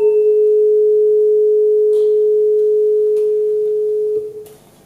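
A single pure test tone for frequency analysis holds at one steady pitch, loud and clean for about four seconds before cutting off, leaving faint background noise and a few soft clicks.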